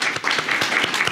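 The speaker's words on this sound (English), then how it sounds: "Please give them a very big round of applause." Steady audience applause at a public talk event, a brief dense patter of many hands clapping, fairly close and even throughout.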